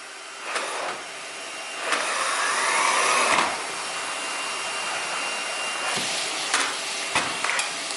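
A Henry cordless vacuum cleaner runs with a steady close whooshing whine, rising in pitch and airflow partway through, with a few clicks and knocks as it is handled.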